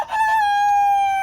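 An Australorp rooster crows loudly and close by in one long, sustained cock-a-doodle-doo, its pitch held steady to the end with no talk over it.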